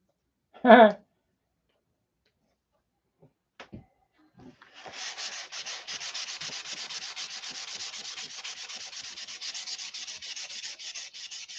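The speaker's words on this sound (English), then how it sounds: "One more light sand." Light hand sanding on an aircraft wing under repair, a soft, rapid, continuous scratchy rubbing that starts after a brief voice and a few taps and then runs steadily for several seconds, close and moderately quiet.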